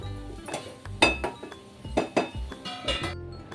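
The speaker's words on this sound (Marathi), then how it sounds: "दोन मिनिटांसाठी झाकण ठेवायचं आहे." Metal clinks and knocks of cookware on a stovetop as a lid is set on a pan of shira, several sharp clattering hits spread over a few seconds, close and fairly loud, with no voices.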